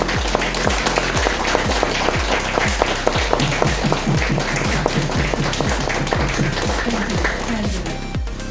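Audience applause at a Diwali 2025 celebration, dense steady clapping from a crowd that carries on for the whole stretch, near and fairly loud with sharp individual claps standing out.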